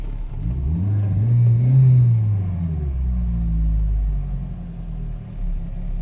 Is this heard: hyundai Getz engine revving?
yes